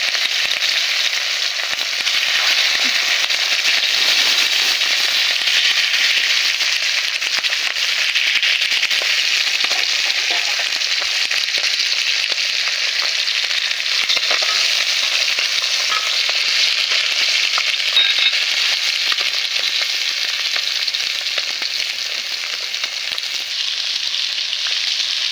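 Silver carp fish pieces frying in hot oil, a loud, dense, continuous crackling sizzle that holds steady throughout with no voices.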